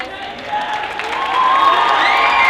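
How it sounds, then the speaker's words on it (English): Cheering and applause from a school audience at a Black History celebration, with whoops rising over sustained clapping. "Please give a round of applause"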